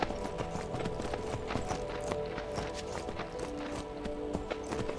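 Steady clip-clop of horse hooves walking at an even rhythm in the video game Myth of Empires, close and fairly quiet, with a faint game-like tonal hum beneath.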